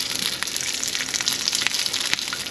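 Crispy rice cakes for spicy tuna fry in hot oil with a dense, continuous sizzle and scattered sharp pops and crackles, close and loud, with no voices.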